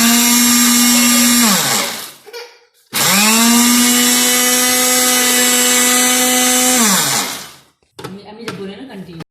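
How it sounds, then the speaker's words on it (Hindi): An electric grinder whirs loudly and close as it grinds green cardamom, running in two long bursts that spin up and wind down, then gives a short rattle. "ये छोटी इलायची जिसे हम हरी इलायची भी कहते हैं, ये मैं डालकर इसको ग्राइंड कर लूंगी।"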